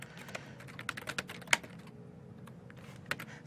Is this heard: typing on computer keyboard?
yes